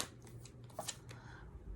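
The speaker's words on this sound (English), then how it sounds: "One more shuffle." Tarot cards being shuffled, a brief soft riffle of card clicks and flutters, faint and close, with no talking.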